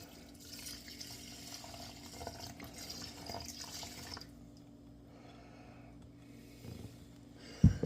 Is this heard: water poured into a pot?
yes